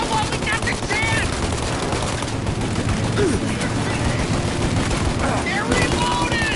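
Dense, continuous gunfire fills a shootout in Mafia Definitive Edition, loud rapid bursts and overlapping shots rattling without pause while voices shout over the chaos.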